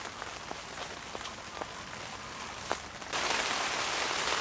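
Rain patters on a large hot tent at a solo campsite, with scattered distinct drops tapping over a soft hiss, then the downpour abruptly swells into a louder, steadier roar near the end.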